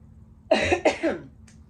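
Two quick, harsh coughs close to the microphone, one right after the other, then quiet.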